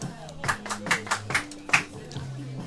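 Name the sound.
fans clapping at a baseball game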